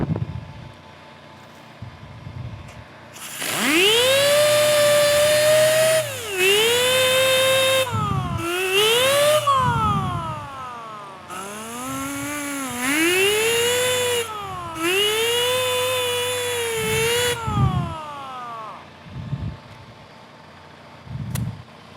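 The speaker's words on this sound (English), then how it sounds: "you can tell he's going from the grinder" Grinder with a heavy disc working motorcycle metal at a bike rally, a loud whining tone that rises and falls in pitch across several long passes with brief pauses between, heard up close without talk.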